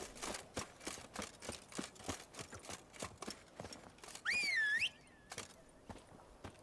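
Horse hooves clip-clopping in a steady walking rhythm in the video game The Witcher 3: Wild Hunt, with a short, loud whinny partway through, heard alone without talk.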